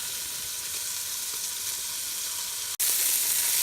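Sausage browns in a pot, giving a steady, dense sizzle and crackle of frying fat that continues unbroken, briefly cut by a sharp dropout before resuming slightly louder.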